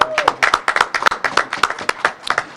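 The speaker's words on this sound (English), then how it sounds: "Can I ask that we give her a round of applause?" A small group applauds Hannah Moore, chief of staff at the Commerce department, with close, distinct claps in an uneven rhythm over a few seconds, while a voice briefly murmurs underneath.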